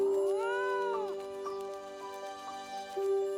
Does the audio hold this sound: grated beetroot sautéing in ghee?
no